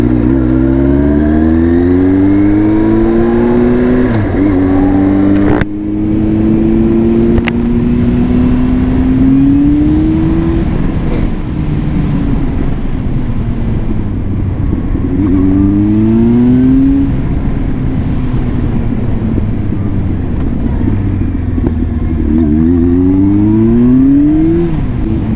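A carbureted first-generation Yamaha YZF R1 motorcycle rated at 150 horsepower, recently revived after two years left outside, revs up and drops back repeatedly in loud, close bursts over a running idle.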